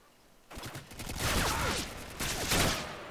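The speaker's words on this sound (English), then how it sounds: "Who the hell's shooting at us?" Gunfire in Modern Warfare 2 comes in two loud, close bursts, with several overlapping shots in each. The firing starts after half a second of near silence.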